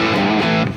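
An electric guitar played through an OriginFx Revival Drive pedal set to its overdrive side gives a loud, gritty chord that sustains for under a second with no voices.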